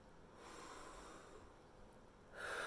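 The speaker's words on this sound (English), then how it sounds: "let's all take a deep breath" A single slow, deep breath is drawn in softly and then released with a louder, airy exhale at the end, faint and close in a quiet room.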